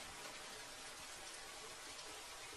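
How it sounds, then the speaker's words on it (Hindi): Stormy rain pours over a cartoon forest, a steady hiss of heavy rainfall with no gaps. "थोड़ी ही देर में तूफानी बारिश शुरू हो जाती है"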